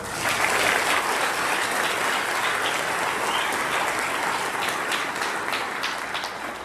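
An audience at a National Honor Society induction ceremony claps steadily, a dense wash of applause that holds at a fairly even level before tapering slightly toward the end.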